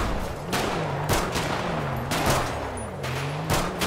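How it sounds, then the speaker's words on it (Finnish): Gunfire aimed at car tires in a video game, a burst of sharp shots spaced roughly half a second apart over a droning vehicle engine, close and loud, with no talk. "Ammutaan renkata."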